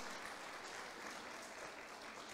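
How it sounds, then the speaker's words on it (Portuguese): Church congregation at a special worship service gives a sustained, even round of applause, a steady wash of many hands clapping with no pauses. "Um aplauso ao Senhor pela sua vida."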